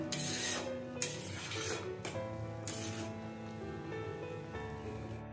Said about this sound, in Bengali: এবার আমি এটা কড়াই থেকে বাটিতে ঢেলে নেব